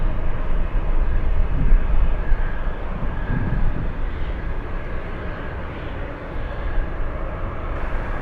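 An Alaska Airlines airliner inbound from Portland on arrival at Anchorage airport, a steady broadband engine roar with some wind rumble, fairly loud and continuous throughout with no speech.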